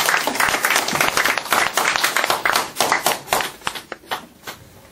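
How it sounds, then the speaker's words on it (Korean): Audience applause at a patriotic lecture on Korea's vision, dense clapping from a crowd that thins toward the end into scattered, separate claps. "우리 한번 다시 박수칩시다."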